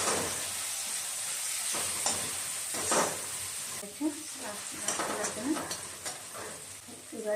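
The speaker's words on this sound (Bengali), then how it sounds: "তেলের মধ্যেই ফোড়নে দিয়ে দেবো আমি অল্প একটু জিরা, দিয়ে দেবো পেঁয়াজ দিয়ে দেবো হাফ চামচ লবণ, দিয়ে দেবো খুব সামান্য একটু হলুদ।" Cumin, onion, salt and a pinch of turmeric fry in hot oil for a fish curry, giving a steady close sizzle with scattered stirring scrapes and small crackles throughout.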